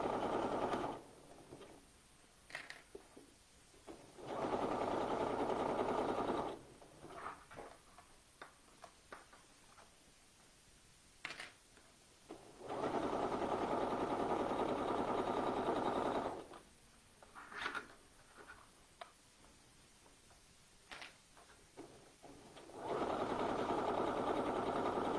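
A sewing machine stitches a gathered flounce on a top in several bursts of steady whirring, each a few seconds long, with quiet pauses between them filled by soft handling and rustling of fabric.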